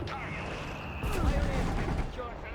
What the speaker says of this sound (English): Another grenade for WebsterBolek.